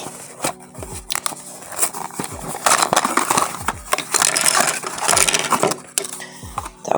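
A McDonald's toy package is torn open by hand, with close, continuous crinkling, crackling and rustling of plastic and paper in busy irregular bursts.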